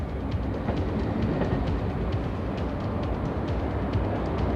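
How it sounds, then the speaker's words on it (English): A train rushing past at close range in Burgundy country, a loud, steady roar of rolling wheels with faint clicking rail joints throughout and no voices. "Wait a minute, this is our train."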